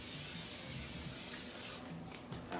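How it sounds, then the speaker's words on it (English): Cooking oil sprays from a can into a black skillet with a steady close-up hiss lasting nearly two seconds, then cuts off, leaving quiet kitchen background. "we're gonna spray some cooking oil in the skillet."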